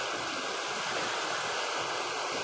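Rain-swollen stream water rushing steadily over a rural mountain channel, a continuous broadband wash with no pauses, fairly close and alone without voices.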